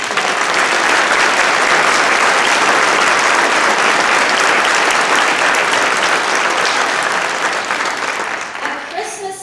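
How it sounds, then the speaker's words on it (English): A big crowd claps loudly and steadily for several seconds at a band's Christmas concert in Boynton Beach, Florida, the applause tapering off near the end. "a huge round of applause for the Robert"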